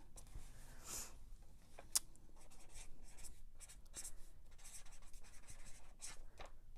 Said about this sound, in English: writing with the Tombow markers